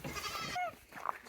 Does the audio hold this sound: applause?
no